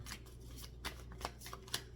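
A deck of tarot cards is shuffled close by, with soft riffling swishes broken by sharper flicks about every half second, and nobody talks.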